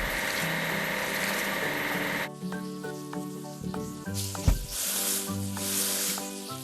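Cartoonish washing effect from a kids' construction video game, spraying and sizzling hiss over a bouncy electronic music loop, with squishy bubbly pops and a brief splashy burst near the middle.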